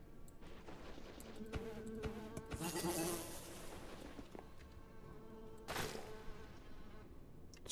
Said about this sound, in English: Just hear the buzzing of those things, they're so present.